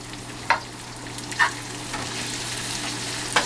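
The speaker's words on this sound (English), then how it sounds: "Stir it all up again." Food is stirred in a frying pan over a quiet, steady sizzle, with three distinct clinks of a utensil against the pan, all close and fairly soft.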